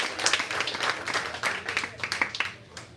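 Audience applause for poets called back to the stage at a live poetry slam, scattered claps at moderate volume with crowd voices mixed in throughout.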